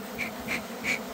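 Honey bees buzzing at a hive after winter, three short close buzzes in quick succession as insects pass near, each swelling and fading over a soft steady hum of the colony.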